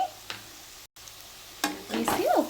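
Fish curry masala with turmeric is stirred in a pan, giving a low sizzle with a few scraping strokes and a short break, then a louder burst of spoon movement near the end.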